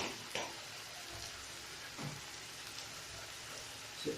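Duck roast frying in coconut oil and duck fat as turmeric powder goes in, a soft steady sizzle with a few brief scraping stirs scattered through, fairly quiet and with no talk.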